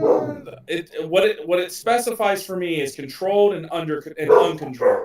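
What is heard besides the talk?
dogs barking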